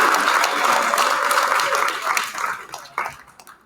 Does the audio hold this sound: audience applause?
yes